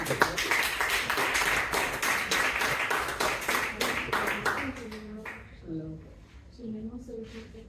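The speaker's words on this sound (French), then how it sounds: "Est-ce qu'on peut applaudir pour Jésus?" A church congregation claps for several seconds in a fast, rhythmic burst that then thins out, giving way to voices and what sounds like singing or speech near the end.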